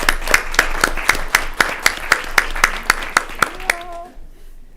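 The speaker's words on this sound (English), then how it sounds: "let's give them a round of applause" Applause at an evening school board meeting, with a close, steady run of individual claps over crowd clapping, ending as a voice begins speaking.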